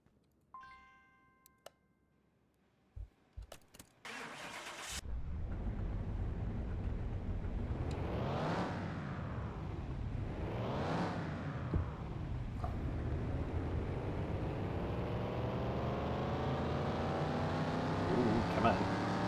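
After a few scattered clicks and knocks, a car engine on a dyno roars up and back down twice in quick revs, then holds a loud, steadily climbing run to the end.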